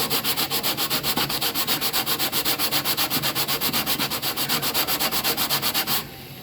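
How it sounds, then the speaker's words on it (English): A brake pad is sanded by hand in fast, even back-and-forth strokes, a loud rhythmic rasping close by that stops abruptly near the end, with no talking. "So let me sand a little bit more."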